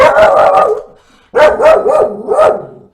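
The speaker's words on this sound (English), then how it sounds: "Wouldn't be a reaction without the dog barking." A dog barks loudly and close by in two quick runs of sharp barks, with a brief silence between them.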